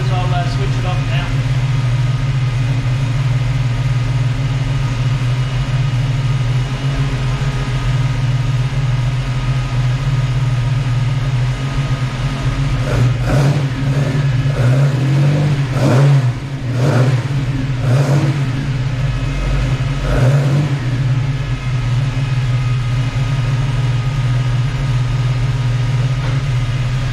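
A Hemi Six Pack Dodge Charger with a solid cam runs warm at a loud, steady lumpy idle, a few sharp revs bursting in around the middle before settling back, with occasional voices in the mix.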